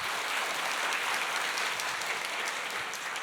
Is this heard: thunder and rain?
no